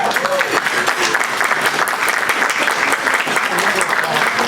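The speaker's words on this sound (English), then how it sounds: "You give yourselves a round of applause." Convention audience in Dallas breaks into a full, continuous round of applause, a thick wash of many hands clapping at steady loudness with some cheering voices blended in.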